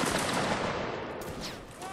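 A musket volley crackles out in a Napoleonic Wars game, a loud dense burst of overlapping shots at once that tails off into scattered pops and fading echo.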